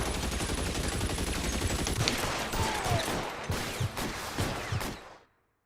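Gunfire in the video game L.A. Noire, a dense rapid volley of shots over a loud roaring background with several distinct bangs toward the end before cutting off abruptly into silence, no talk.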